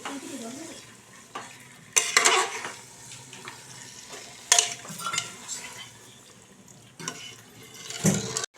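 Mutton being stir-fried over a high flame in a pan, a steady sizzle broken by several loud scraping and clanking bursts of a spatula against the metal, close and busy.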